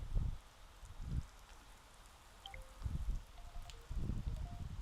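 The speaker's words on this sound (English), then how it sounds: "It's raining." Rain falling outdoors, faint patter with intermittent soft low thumps of drops hitting nearby surfaces, brief scattered tones in the background.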